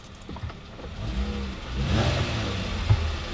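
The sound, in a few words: Jeep Wrangler JK engine revving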